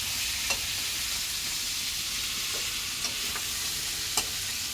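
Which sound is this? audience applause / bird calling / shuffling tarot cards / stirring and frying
stirring and frying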